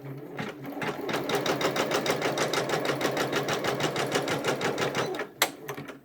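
A Janome MB4 embroidery machine stitches quilting in the hoop, giving a steady, fast, even mechanical chatter for about four seconds, with a brief sharp click near the end.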